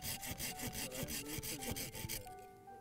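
A hand saw cuts through olive tree wood while a tree is being prepared for grafting, with steady, fast back-and-forth strokes rasping close and loud for most of the clip before stopping abruptly.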